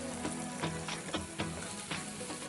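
Eggplant pieces fry in a pan with onions and green chillies, a steady sizzle with soft repeated stirring taps and no voices.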